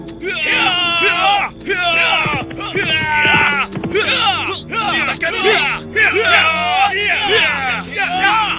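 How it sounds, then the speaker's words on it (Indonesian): A crowd of voices yelling "Attack!" in a loud, sustained battle cry breaking a quiet night, many shouts overlapping continuously without pause. "Lalu malam yang sunyi itu pun dipecahkan dengan teriakan keras."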